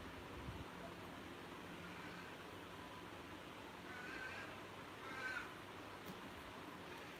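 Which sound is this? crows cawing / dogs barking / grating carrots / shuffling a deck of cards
crows cawing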